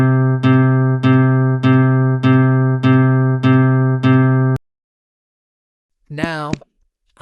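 One sustained synthetic-sounding note repeats seven times at an even pace, each decaying briefly, then silence and a short voice at the end.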